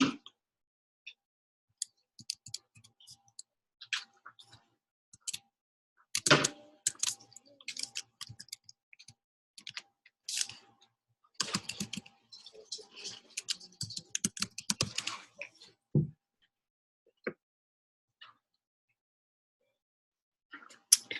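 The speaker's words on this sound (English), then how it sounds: "Give me a minute to finish typing" Computer keyboard typing comes in scattered bursts of quick, crisp key clicks, close and fairly quiet, with short pauses between runs while someone writes code for array methods, and no speech.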